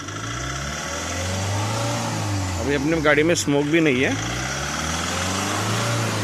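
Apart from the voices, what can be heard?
car engine running with Soka rapid injector knocking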